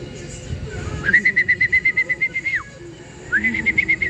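A pigeon in a loft gives a rapid, pulsing series of clear calls up close, then a pause and a second shorter burst, over steady background murmur.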